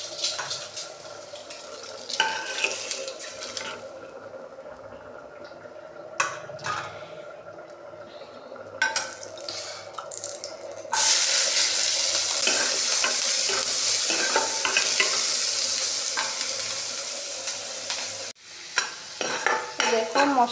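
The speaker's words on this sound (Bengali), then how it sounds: "দেখো মশলাটাকে একটু কষিয়ে তারপর আলুটা দিয়ে দেবো" Spice paste frying in a pan while being stirred, a steady sizzle with scraping stir strokes that swells louder midway, then drops off briefly before resuming.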